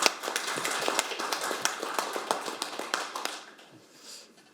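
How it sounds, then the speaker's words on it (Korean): The audience at a seminar on delayed post-war PTSD claps for war veterans. Crisp, close claps come at a brisk pace for about three seconds, then thin out and stop, leaving faint room noise. "용기 내서 오늘 세미나에 참석해 주신 참전 영웅들에게 다시 한번 큰 박수 부탁드리겠습니다"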